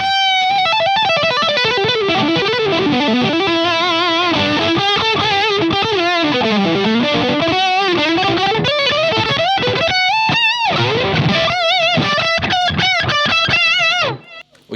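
Electric guitar played through a Boss DS-1 distortion pedal into a breaking-up amp, thick sustained distorted notes and bends running loud and nonstop, ending abruptly near the close.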